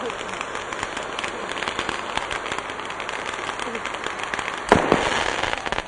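Diwali fireworks bursting at night at Delphi, Greece: a continuous crackle of firecrackers with scattered pops and one louder nearby bang toward the end, people talking underneath.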